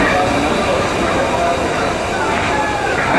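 A Dhaka-bound intercity train arriving at Vanga railway station in Faridpur, a loud, continuous rumble and rolling roar of wheels and carriages filling the whole moment, with station voices blended into the din.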